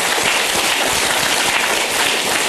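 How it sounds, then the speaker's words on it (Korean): A dense, steady wash of clapping from an audience at a Korean religious gathering, filling the whole moment with even, continuous noise and no voices. "박수 한번 해줍시다."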